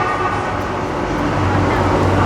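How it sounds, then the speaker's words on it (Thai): Airport Rail Link electric train in Thailand, running between Phaya Thai and Suvarnabhumi at up to 160 km/h, gives a steady, loud broadband rumble and rail roar that continues without a break. "รถไฟฟ้าแอร์พอร์ตเรลิงนะครับท่านผู้ชมครับ"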